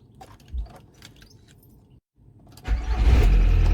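A VW Golf Variant with high mileage cranks briefly and catches at once, the engine settling into a loud, steady run close by after a few quiet mechanical clicks and a short pause.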